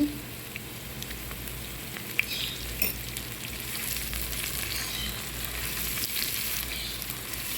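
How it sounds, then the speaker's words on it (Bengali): Chopped onions fry in oil for a hilsa and ridge gourd curry, a dense continuous sizzle and crackle at a steady close level, with an occasional light clink; no speech. "পেঁয়াজ কুচিটা ভালো করে হালকা বাদামি করে একটু ভেজে নিব"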